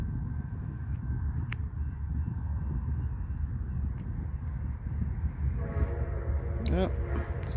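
Train passing near a backyard with seagulls around, a steady low rumble throughout and a horn sounding toward the end, moderately close, with no talk over it.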